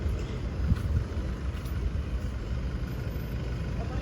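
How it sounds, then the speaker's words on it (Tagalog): A dump truck at a pier in Hong Kong rumbles with a low, steady engine drone, close and continuous, with no distinct speech over it. "dump truck"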